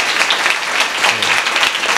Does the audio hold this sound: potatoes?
no